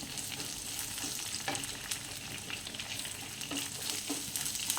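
Finely chopped shallots for a drumstick-leaf dal curry frying in hot oil, a dense continuous sizzle up close with occasional scraping knocks of a spoon stirring, no voices.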